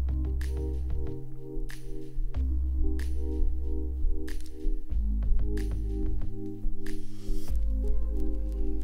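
Looped drum-driven background music plays back in Logic Pro X, with a steady repeating beat of heavy low kicks and bright hits over sustained bass tones, continuous and even.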